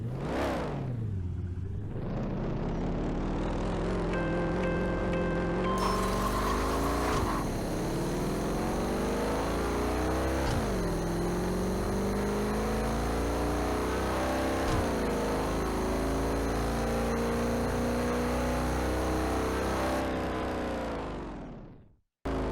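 A race car engine revs hard in the racing game Rush Racing 2, climbing loudly through repeated gear shifts with a rising whine, staying close and steady for about twenty seconds before cutting off abruptly.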